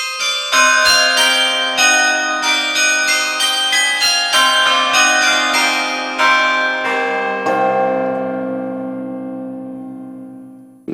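A synthesized bell-tower synth patch transposed up one octave plays a high melodic line of bright, chiming repeated notes, each struck cleanly and ringing into the next before a long fading tail; no voices.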